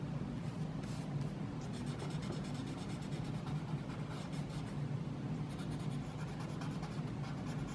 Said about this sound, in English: I'm just using whatever is left over on my stump to just give it a little bit of color